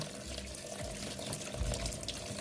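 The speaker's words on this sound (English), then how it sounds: "so the water is going right through." Tap water pours steadily through a porous strainer while cherries are rinsed at a kitchen sink, a continuous close splashing hiss with no talk.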